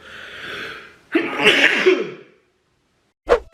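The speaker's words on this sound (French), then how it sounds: "je vais avoir des crises d'éternuement." A loud, close sneeze bursts out after a rising inhale, followed by a short pause and a second sharp sneeze.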